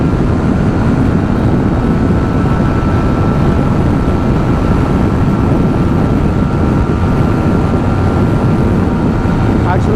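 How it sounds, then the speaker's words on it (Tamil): Yamaha R15 V4 motorcycle at top speed, a constant loud roar of wind blast buffeting the rider, steady and unbroken throughout. "ஆக்சுவலாக விண்ட் பிளாஸ்ட் வந்து பார்த்தீங்கன்னா பொழக்குது, வண்டி அப்படியே ஆடுது."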